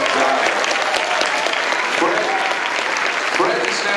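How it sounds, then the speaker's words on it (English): A convention panel audience at a fan Q&A event claps loudly and continuously, a dense close round of applause filling the room, with some crowd noise mixed in. "So everybody, give a big round of applause to Fred Dyer."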